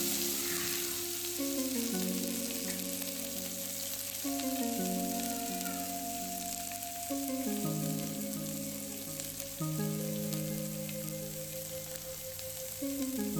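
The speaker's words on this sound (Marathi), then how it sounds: "आता या तेलामध्ये मिरची आणि लसूण घालणार आहोत. लसूण छान भाजायचा आहे." Green chili and garlic fry in oil for a pumpkin leaf dish, giving a steady, close sizzle that runs evenly throughout with no voices.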